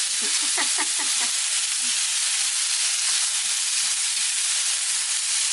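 Potatoes stir-fried over high heat in a pan for a home-style Korean potato side dish: a loud, steady sizzle and hiss throughout, with a few soft stirring clatters near the start.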